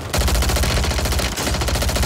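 Striker 9 submachine gun firing in the video game Warzone 3, a loud rapid continuous burst of automatic gunfire with a brief gap partway through before the stream resumes.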